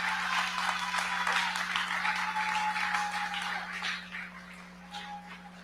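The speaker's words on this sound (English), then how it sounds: "So let's give them a round of applause for doing this." Conference audience at a summit giving a round of applause, dense and fairly loud clapping that holds steady before gradually thinning out, with a low steady hum underneath.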